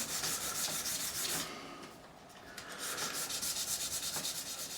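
A guitar fingerboard is sanded by hand with sandpaper in a close, steady rhythm of back-and-forth rubbing strokes, which pause briefly midway and then resume.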